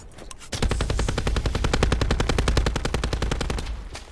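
Automatic gunfire in the video game Black Ops 4 Blackout, a sustained rapid burst of evenly spaced shots lasting several seconds, loud and close with a slight echo and no talk.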